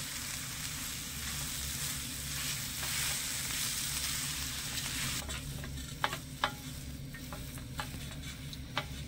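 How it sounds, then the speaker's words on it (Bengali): Potatoes and shredded cabbage frying in a pan for a paratha filling: a steady broadband sizzle runs throughout, with sharp clicks of a spatula stirring and scraping near the end, and no voices. "আলুটা বাঁধাকপির সাথে মিশিয়ে আলুটাও একটু ভেজে নেব"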